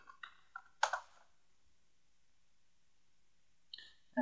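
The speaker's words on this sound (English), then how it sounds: "Now you can type in something like Spring Tool" A few quick keystrokes on a computer keyboard while typing a search into the Eclipse Marketplace in the Eclipse 4.4 Luna IDE, a short cluster of close, soft clicks, then silence, then another brief burst of typing.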